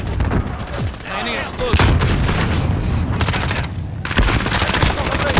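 Loud, close gunfire and heavy booming blasts rage in a shooter video game, with rapid bursts and a big explosion swelling partway, while voices talk underneath.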